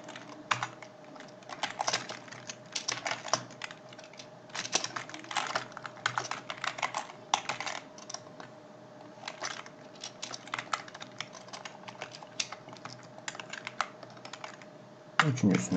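Rapid typing on a computer keyboard while entering a Linux command, with dense, close key clicks in uneven bursts over a faint steady hum and a louder clack at the end.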